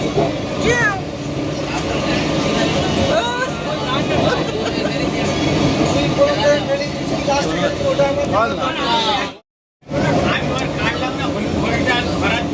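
A train ride fills the clip with a steady rumbling carriage drone and rattle, people talking over it, and a sudden brief gap of near silence toward the end.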